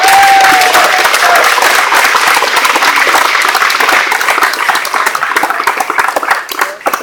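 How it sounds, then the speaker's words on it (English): A large crowd at a community college event breaks into loud, dense applause with some cheering, sustained and close, tapering slightly toward the end. "would you please give a nice big round of applause for the Manchester Community College for helping us have this event here."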